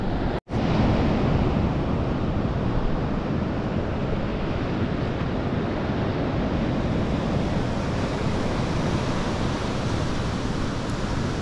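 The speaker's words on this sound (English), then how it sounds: "Bouncing about a bit though, there's a bit of surf" Surf washing onto the beach at Playa Jandia, Fuerteventura, a steady, loud roar of breaking waves with wind buffeting the microphone, continuous throughout with only a brief dropout near the start and no talking.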